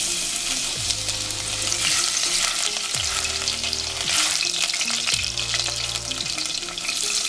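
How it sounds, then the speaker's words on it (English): Garlic sizzling in very hot oil in a pot, a loud steady crackling fry close by, with a few stirring scrapes along the way. "I'm gonna add oil to my pot. I'll make it very hot. I'm gonna add my garlic."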